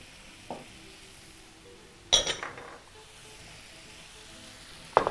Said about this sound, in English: Just quickly toss everything together in your pan. And now you can proceed to turn your heat a little higher.